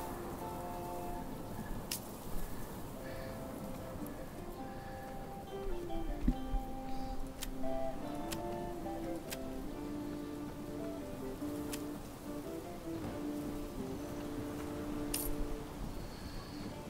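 Rain falling in the medieval city-building game Manor Lords, a steady patter with occasional clinks over soft musical tones, continuous and even throughout with no talking.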